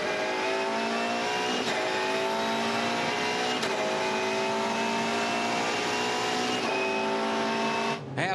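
Volvo S60 V8 Supercar racing at Albert Park, the engine note dropping through several quick downshifts into turn 10, a loud continuous roar with brief breaks between gears.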